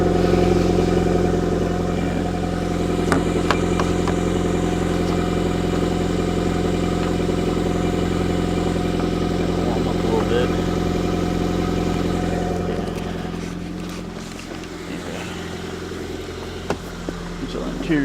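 A Nissan Sentra with a damaged muffler idles after a cold start, a loud, rough, steady drone with pronounced low hum that eases slightly toward the end, with faint clicks and no talk.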